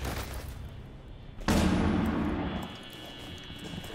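A single sharp burst from an SMG-12 in a video game cuts in abruptly after quiet background, then decays with a lingering tail, fairly faint overall.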